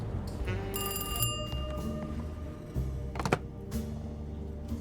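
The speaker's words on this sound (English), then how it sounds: "Why is our phone ringing?" A telephone bell rings in repeated bursts with bright metallic tones, over a low rumbling soundtrack in the video game Alone in the Dark; a few clicks follow.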